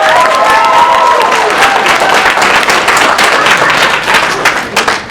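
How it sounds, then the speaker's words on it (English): A large crowd at a Youmacon convention panel claps loudly and steadily throughout, dense applause with some cheering mixed in, fading slightly at the very end. "So give yourselves a round of applause, because this is amazing."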